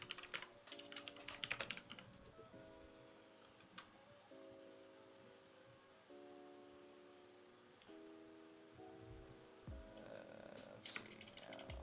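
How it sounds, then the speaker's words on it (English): Steady computer keyboard typing runs throughout at a quiet, close level, with dense clusters of key clicks and brief pauses, over a soft background hum and a few sharper taps. "Meanwhile, we're enjoying Kristen's beautiful typing ASMR."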